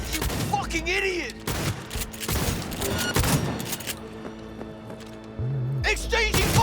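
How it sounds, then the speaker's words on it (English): Bursts of gunfire ring out in a firefight in Cyberpunk 2077, with rapid shots in clusters between game voices and other in-game noise. "Exchanging fire!"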